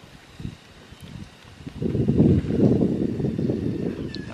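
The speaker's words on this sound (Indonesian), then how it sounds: "Uy, angin kencang kali teman" Strong wind gusts buffet the microphone in a low, rumbling roar that swells after a couple of seconds and keeps blowing steadily.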